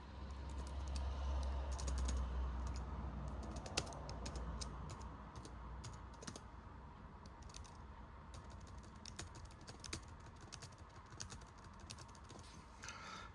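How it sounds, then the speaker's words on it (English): Fingers type on the keyboard of a white late-2007 MacBook, giving quiet, close, irregular key clicks in short bursts over a low background hum, with no talking. "I'm just going to type in what I need to"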